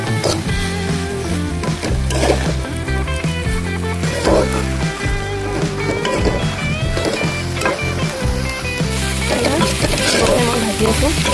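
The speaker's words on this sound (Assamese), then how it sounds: "মই ভাজি আছোঁ হ'লেই আৰু 2 মিনিট" Food fries in a pan over a low flame with constant loud sizzling, and a utensil scrapes and knocks in rhythmic strokes throughout as the contents are stirred.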